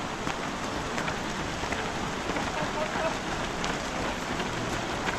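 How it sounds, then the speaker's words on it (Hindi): Light rain falls steadily in Salzburg, a dense, even hiss of drops pattering on surfaces close by, with no talk over it. "हल्की बारिश है, यहाँ साल भर बारिश होती है।"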